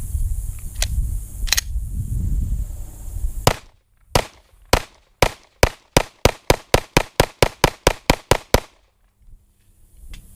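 A Glock Gen 5 pistol fed from a Magpul magazine fires about sixteen sharp, loud shots in a rapid, even string, after a few seconds of handling noise and faint background sound.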